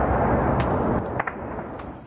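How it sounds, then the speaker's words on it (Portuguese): Heavy artillery fire in the battle for the Zaporizhzhia nuclear plant rumbles as low booming blasts, with a couple of sharper distant cracks over a continuous roar, loud at first and easing off. "Um vídeo amador registrou o barulho da artilharia pesada."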